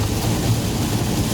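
Heavy rain and wind on a toll road near Pasuruan in East Java make a continuous low roar and wash over a moving vehicle. The sound is steady and enveloping, with no talk.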